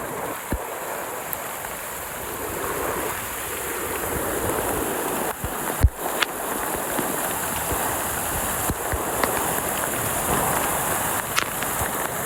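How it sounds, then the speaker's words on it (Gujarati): Steady, loud rush of floodwater after heavy rain flowing through a narrow village channel fills the whole clip, a broad continuous roar with a few sharp knocks and splashes scattered through it. "અહીંયા પાણીનો પ્રવાહ જુઓ તમે, જોરદાર છે કે નહીં?"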